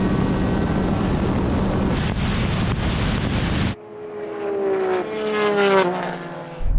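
Race car engines and exhaust in Gran Turismo during a drag race, a loud sustained roar that cuts off suddenly, followed by a quieter engine whine rising and falling in pitch.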